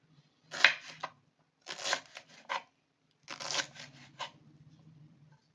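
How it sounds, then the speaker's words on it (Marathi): Shewla, a wild forest vegetable, being finely chopped in three quick clusters of crisp cutting strokes, with pauses between them and a faint low hum underneath. "बारीक बारीक कापायची"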